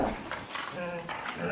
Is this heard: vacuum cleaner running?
no